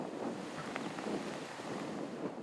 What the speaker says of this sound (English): look at the way the wind is ripping at the water behind them